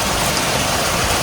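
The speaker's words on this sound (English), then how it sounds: "it's raining really hard right now" Heavy rain pours steadily outside a garage door, a dense, loud, unbroken hiss of water with no pauses or other sounds.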